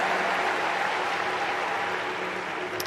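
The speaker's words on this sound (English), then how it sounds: "that applause was for another catch" An audience at a tennis match applauds a spectator catching a ball, a steady wash of clapping from a distant stadium crowd, moderately quiet and sustained for a few seconds.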